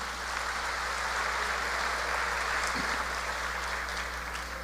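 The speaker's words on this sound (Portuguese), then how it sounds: "Isto, aplauda, é isto mesmo, pode aplaudir." A congregation claps together during a church service, an even wash of applause at moderate level over a low steady hum, with no voices heard.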